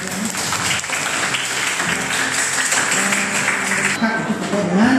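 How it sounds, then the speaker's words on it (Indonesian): Applause at a teacher training session in Karangasem, a steady wash of clapping with voices and background talk mixed in throughout. "tepuk tangan"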